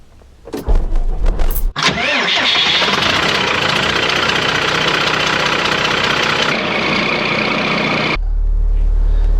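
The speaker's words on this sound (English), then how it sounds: "Let's see if we can get a cold start on this thing." A 1999 Cummins diesel engine in a camper cranks with a few rough turns, catches, and settles into a loud, steady, clattering idle close by. Near the end, a deeper low rumble comes in.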